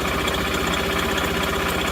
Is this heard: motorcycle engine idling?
yes